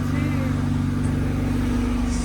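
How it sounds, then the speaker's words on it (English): A Honda Civic EG hatchback engine running at idle after starting, with a steady low mechanical drone close by and a continuous even rumble. "I haven't heard this engine turn on in years."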